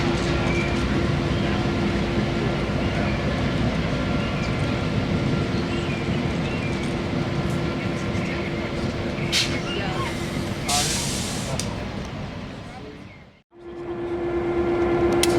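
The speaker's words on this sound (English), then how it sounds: "the locomotive pulling our train today is the Nashville, Chattanooga, and St. Louis Railway number 710" A 1950 GM EMD diesel locomotive, Nashville, Chattanooga and St. Louis Railway number 710, pulls a passenger train with a steady droning engine and rolling rumble, heard from on board, continuous and fairly loud before a brief drop.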